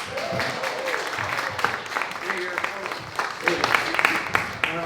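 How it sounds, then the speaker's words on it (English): Poetry salon audience at Barrel Proof Lounge applauds a poet, a moderate spread of clapping mixed with cheers and chatter from the crowd in a lounge. "Please give a big round of applause to Timothy Williams"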